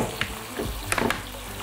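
Sloboda olive and sunflower vegetable oil blend is stirred through a dish, giving a short run of wet scraping and sizzling with a few sharp clinks near the middle. The sounds are close and moderately loud, and no one speaks.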